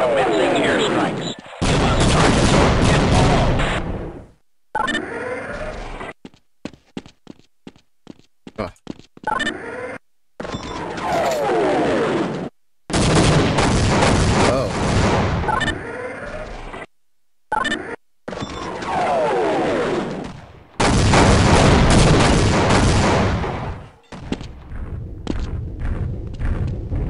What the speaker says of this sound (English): we are pulling out and commencing airstrikes.